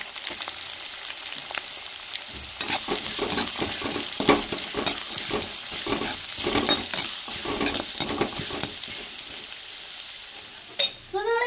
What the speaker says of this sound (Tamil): கருவேப்பிலை போட்டுக்கிறோம் வெட்டி வச்ச வெங்காயத்தையும் சேர்த்துக்கணும்